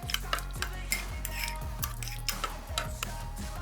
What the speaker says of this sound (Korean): 이제 여기다가 마요네즈를 1스푼을 넣어서 섞어줍니다.